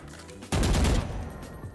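Weapon fire in the game Valorant right after Jett's dash: a sudden loud burst of shots kicks in about half a second in, sustained for half a second, then tapering into quieter echoing tail; no talking.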